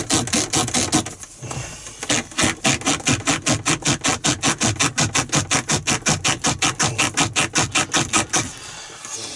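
A handbrake handle trim on a Range Rover P38 is wiggled hard and pried out, making a loud, close, fast rhythmic creaking rasp that repeats many times at an even pace.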